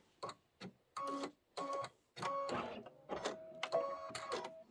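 An embroidery machine stitches a spiderweb design onto a Halloween candy corn quilt block, giving a close, rapid mechanical whir in repeated bursts with short gaps and a steady hum in the longer runs.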